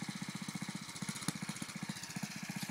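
A Husqvarna FT-900 tiller engine runs while tilling soil, giving a steady, rapid chugging pulse close by with a faint clank midway.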